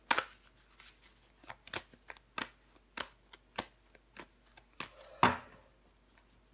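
Tarot cards being laid out and handled, a quiet close series of sharp flicks and soft slaps as cards are placed one by one, ending with a brisker shuffle.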